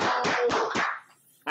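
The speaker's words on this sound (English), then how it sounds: "I got the crowd in the background cheering her on" A crowd in a bar claps in four loud, even bursts about a quarter second apart, close by, then falls quiet before a short sharp final burst.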